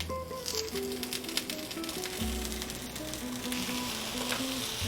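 Tomatoes and two serrano peppers char in a hot pan with a steady, dense sizzle and crackle throughout, close and loud, while faint melodic tones play underneath.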